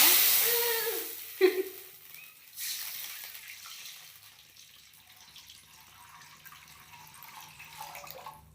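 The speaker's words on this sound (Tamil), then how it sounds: "கடுகு வந்து வேகும்போது நம்ம தண்ணி ஊற்றணும்." Water poured into a pan of hot oil with mustard seeds while making instant noodles: a loud sizzling splash at the start that settles into a fading, steady hiss.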